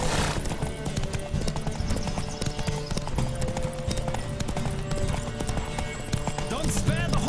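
A horse gallops in The Witcher 3 video game, with rapid rhythmic hoofbeats running steadily throughout and a brief whinny-like cry near the end.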